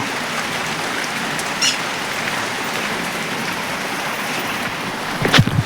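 Steady rain hisses down on a surface, with a few louder drops and splashes near the end.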